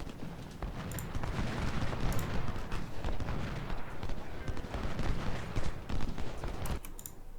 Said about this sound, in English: I think there's still horses over here, still cavalry even.